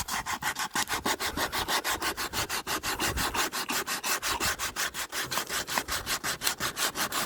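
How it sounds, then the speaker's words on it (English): Steady rhythmic rasping of wood being sanded by hand on a boat, quick regular back-and-forth strokes continuing without pause, close and loud. "do a bit more sanding."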